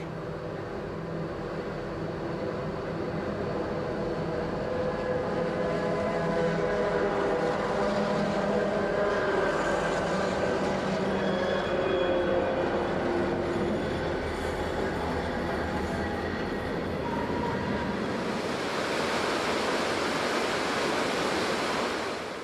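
A BNSF westbound freight train eases down the grade across Deception Creek on Stevens Pass, a loud continuous rumble of rolling cars with thin metallic wheel squeal threaded through, thinning into a broad rushing wash near the end.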